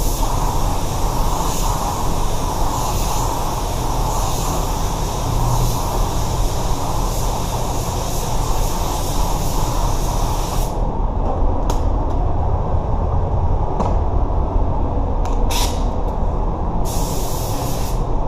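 A spray gun applies three-stage pearl white paint to a repaired car bumper, hissing loudly and continuously for a long stretch, then cutting into shorter bursts with brief pauses between passes.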